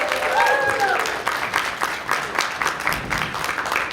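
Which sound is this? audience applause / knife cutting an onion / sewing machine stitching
audience applause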